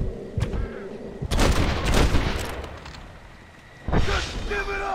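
Gunfire in the Western video game Red Dead Redemption, loud bursts of shots and booms in two clusters with a quieter stretch between, with a voice briefly heard.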